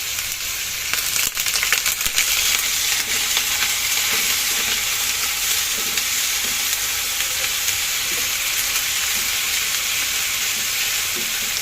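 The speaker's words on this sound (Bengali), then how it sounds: "এখন এখানে আমি আগে একটু রসুন আর একটু আদাটা একটু ভেজে নিচ্ছি।" Garlic and ginger frying in hot oil make a loud, constant crackling sizzle up close, with occasional stirring scrapes early on and no talking over it.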